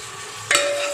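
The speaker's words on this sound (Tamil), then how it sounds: "ஆட் பண்ணி நல்லா வதக்கிட்டு போகிறேன்." Onions fry in a pan with ginger garlic paste, giving a constant close sizzle, and a sharp scrape of stirring cuts in halfway through.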